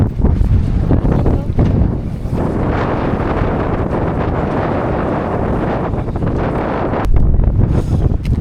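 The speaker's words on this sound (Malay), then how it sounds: "Sampai je dekat Charing Canyon ni memang angin sangat-sangat kuat tau, plus sejuk" Strong, cold wind at Charyn Canyon in Kazakhstan roars into the microphone as loud, continuous buffeting, with heavier gusts near the start and again after seven seconds.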